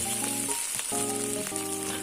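Crushed garlic and sliced bologna fry in oil in a pan, giving a continuous close sizzle with a faint steady hum running beneath it and no talking.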